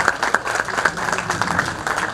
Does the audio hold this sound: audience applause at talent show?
yes